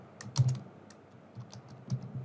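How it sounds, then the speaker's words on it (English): Soft keystrokes from a computer keyboard as a message is typed, a few scattered close taps with slightly heavier presses, no voices over them. "And this is a message she is typing for us."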